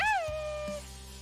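A pet cat named Popo gives a single clear meow with a rising then falling pitch, heard fairly close and alone with a quiet room hum underneath.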